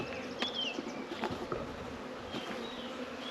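Honeybees buzz at the entrances of their hives on a warm day, a faint, continuous hum of many wings with brief, closer buzzes of single bees darting past. No voices.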